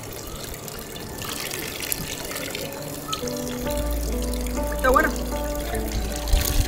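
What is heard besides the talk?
filling a water bottle at a Vatican fountain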